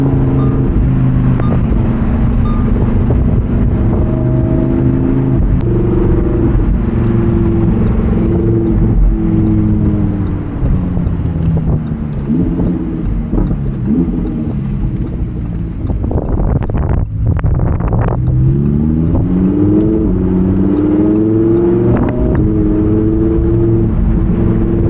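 Lamborghini Huracan Evo Spyder with a 7-speed dual-clutch transmission revving hard while driving, its loud engine note climbing and falling in pitch through gear changes, with steady wind rush throughout.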